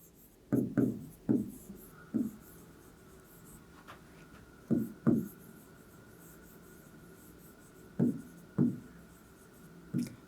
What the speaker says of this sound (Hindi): तो लिखेंगे एरिया पेंटेड बाय रुखसार